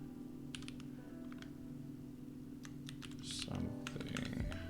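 Fast, light typing on a computer keyboard, a run of close clicking keystrokes in short bursts with pauses, over a low steady hum and faint background noise.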